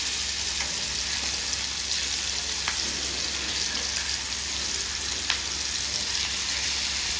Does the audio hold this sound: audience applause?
no